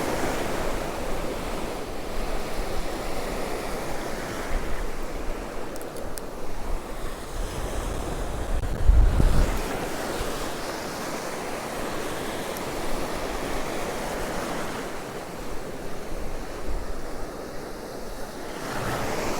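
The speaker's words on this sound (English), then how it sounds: "The waves are definitely getting bigger." Sea waves break and wash steadily on Cromer beach, a continuous loud roar of surf with gusty wind buffeting the microphone and one heavier crash midway, no voices.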